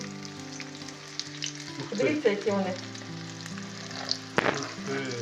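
Breaded zucchini sizzles and crackles steadily in a hot pan, with a few clinks of a utensil, while a voice speaks briefly over the frying.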